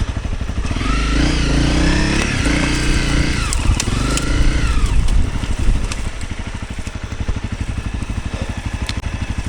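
A flooded, overheated motorbike engine runs loudly and close up, revving roughly at first, then settling into a rapid, uneven idle with a rattling, sputtering beat.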